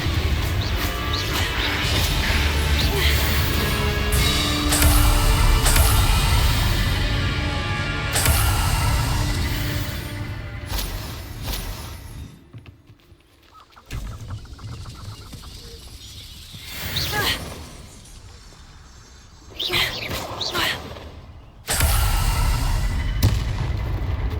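Confringo fire spells go off in the Hogwarts Legacy video game, giving loud, repeated explosive blasts and crashes over a dense game soundtrack, with brief lulls between bursts.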